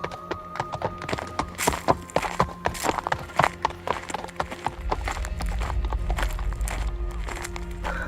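Clip-clop hooves of a horse led on foot at a walk, steady rhythmic clopping close by, followed by a low rumbling background in the second half.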